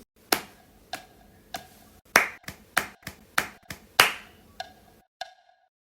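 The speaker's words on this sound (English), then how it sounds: "Well, let's clap this. 1, 2, 3. 1, 2, 3." Hands clap out a steady triple-meter rhythm as a music theory counting exercise, about a dozen sharp, close claps evenly spaced with no talk over them.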